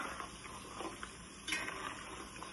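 Large chicken pieces frying in a pan for a cashew-powder chicken pickle: soft, steady sizzling with light stirring scrapes from a flat spatula, quiet and close.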